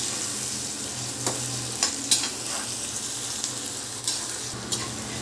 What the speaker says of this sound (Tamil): நல்லா அரை கைப்பிடி அளவு கருவேப்பிலை இதெல்லாம் சேர்த்து நம்ம வதங்க விடணும்.